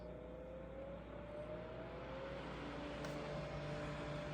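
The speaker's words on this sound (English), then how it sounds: "So now it's blowing air a little bit harder." An Xflyee battery camping fan with a built-in LED lantern runs at a raised speed, giving a steady, quiet, even whir of blowing air that holds constant throughout with no voices.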